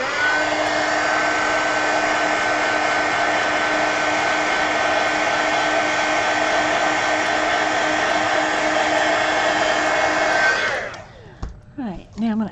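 Heat tool or dryer drying black paint on an art card, a loud steady whir with a high tone running for about ten seconds before cutting off, followed by a few faint knocks.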